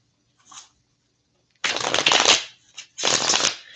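Cthulhu Tarot cards are riffled and shuffled in two quick close bursts, crisp papery fluttering after a brief soft touch, in an otherwise quiet room.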